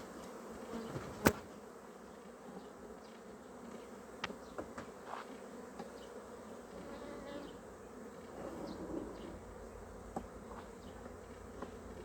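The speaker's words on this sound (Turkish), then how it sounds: "Arılar oğula başladı." A steady honeybee buzz hums throughout at a hive beginning to swarm, many bees droning together at close range, with a few sharp clicks and taps scattered across it.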